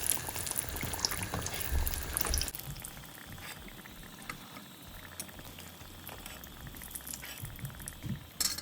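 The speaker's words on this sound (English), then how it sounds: "and then fry them for a couple of minutes" Pakoras deep frying in hot oil make a steady bubbling boil, louder and busier for the first couple of seconds and then settling into a softer continuous crackle.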